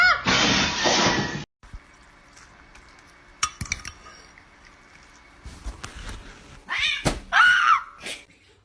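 A dirty cat that has jumped into a van meows and yowls in short, loud bursts between clattering and clinking objects, with quieter gaps and brief human exclamations.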